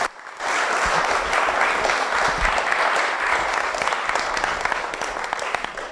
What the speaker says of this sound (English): Please give them a big applause here.